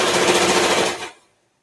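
A sewing machine stitching elastic into fabric, running in a fast, steady, loud rattling burst for about a second before stopping abruptly into silence.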